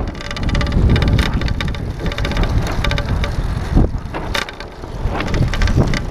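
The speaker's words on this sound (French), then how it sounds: "et le vent." Wind buffeting the microphone while cycling along a road on a trip from Istanbul along the Black Sea, a loud, continuous roaring rush with gusty swells and no talking.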